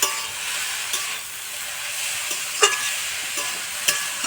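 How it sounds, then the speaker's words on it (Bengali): Chopped tender bottle gourd leaves stir-frying in a pan, a steady soft sizzle with a few sharp scrapes of a spatula, close and fairly quiet, with no talking. "তারপরে আমরা এটাকে ভেজে নিচ্ছি"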